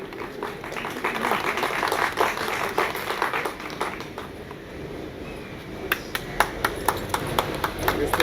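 Audience applause at a behind-the-scenes event for a TV show, a wash of clapping that thins into scattered, sharper individual claps toward the end, with some voices audible underneath.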